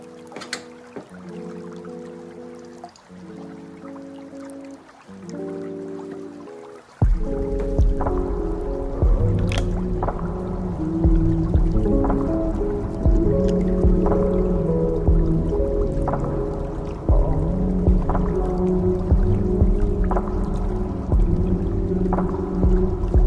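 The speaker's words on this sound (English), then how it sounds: "So I'm about to go ahead and pour this into my little jar right here." Melted candle wax pours from a nozzle into a small jar, starting with faint gurgling drips that then become a louder, steady, bubbly liquid stream filling the container, heard up close with no talking.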